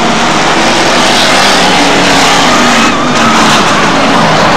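Hot Stox stock cars race around an old dog track, engines roaring loud and continuous close by as cars pile into the wire fence amid the constant racing din.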